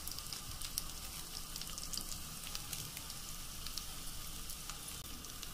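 Garlic and green chillies frying in a pan give a steady, faint, continuous sizzle with fine crackling pops throughout, close by and with no talking.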